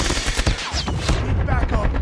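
Rapid bursts of ASM10 (AN-49) assault rifle fire from the video game Call of Duty: Mobile crackle continuously and loudly over a dense in-game battle soundscape.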